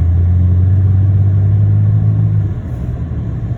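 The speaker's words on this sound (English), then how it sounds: "There goes a fire truck." A fire truck drives past on a street, its heavy engine giving a loud, steady low rumble that holds for a couple of seconds, then drops off abruptly into quieter background traffic noise, with no voices.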